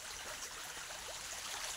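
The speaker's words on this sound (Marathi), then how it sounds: "पाण्याचे झरणे" A forest stream flows with a soft, steady hiss and gurgle of running water. It is faint and continuous, with no voices.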